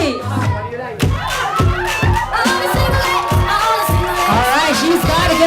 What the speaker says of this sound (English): If you'd like to catch that bouquet, make some noise, ladies